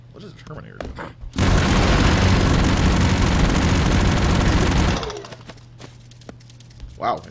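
Dense burst of explosive gunfire and booms from the run-and-gun game Broforce, loud and sustained for several seconds before cutting off, with quieter game sounds and brief talk around it.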